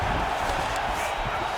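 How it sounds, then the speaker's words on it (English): A UFC 5 video game arena crowd gives a brief, dense, steady roar of cheering at a mixed martial arts fight. "the crowd absolutely loving it as these fighters work their way back to the feet"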